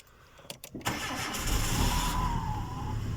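A few clicks, then a driving-school car engine cranks and catches, settling into a steady idle.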